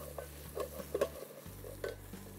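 Ginger garlic paste cooks in a thick-bottomed pan, giving a faint sizzle broken by soft scraping stirs and light taps, quiet and close, with no talking.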